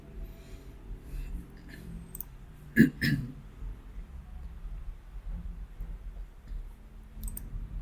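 Computer mouse clicks, a quick pair of sharp clicks near the middle, stand out against a quiet room hum, with a few fainter clicks before and after.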